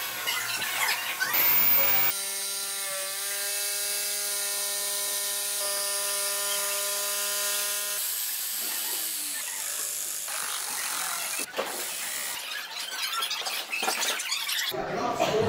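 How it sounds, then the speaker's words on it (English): A router fitted with a chamfer bit cuts wood for an arcade cabinet, giving a loud, sustained whine with a strong pitched tone. Rougher bursts of cutting and handling noise follow, all close by. "Using this cool chamfer bit is going to give me a nice angle on the inside."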